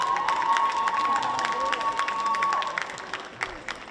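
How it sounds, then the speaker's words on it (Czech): An audience at a dance floor show cheers and applauds a school-of-arts dance group from Hořice. Crowd shouts, high cheers and a held whistle-like tone ride over dense clapping, which tapers off near the end. "Přivítejte velkým potleskem."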